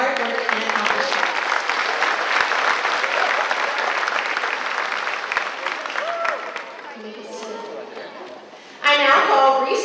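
A large crowd claps steadily and loudly at a high school commencement ceremony, the applause thinning toward the end before voices and cheering swell up briefly.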